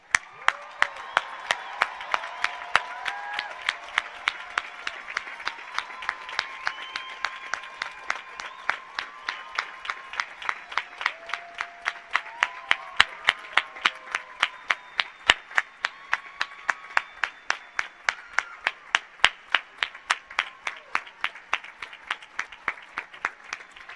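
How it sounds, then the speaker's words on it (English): A commencement audience gives graduates a round of applause: many hands clap in a fairly regular, rhythmic pattern with sharp individual claps standing out, sustained steadily at moderate loudness alongside scattered voices. "please give these individuals a joyous round of applause"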